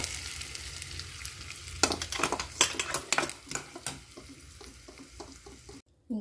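Hot fried tempering is stirred into mango chutney, with a soft sizzle and a run of quick scraping, clicking spoon strokes against the bowl, no voice heard.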